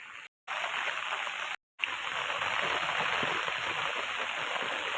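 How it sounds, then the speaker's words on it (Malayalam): Heavy rain pours steadily in a dense, even hiss with no talking, briefly cut off twice near the start before continuing unbroken. "നല്ല മഴയാണ്"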